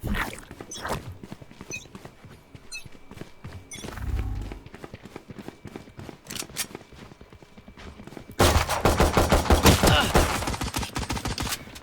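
Rapid gunfire in Valorant, with bursts of sharp shots spread throughout and a dense, louder volley in the final few seconds; a deep thump sounds near the middle.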